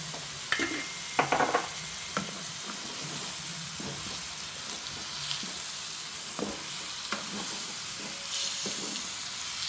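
Anchovy roast masala with salt and fenugreek powder is stirred in a frying pan, producing a soft, continuous sizzle punctuated by light spatula scrapes and taps at a fairly low level.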